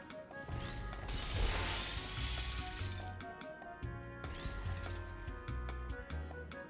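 Glass breaking inside a test chamber in the video game Portal 2, a loud crash and shatter followed by tinkling shards, then a second smash, set against droning electronic game music.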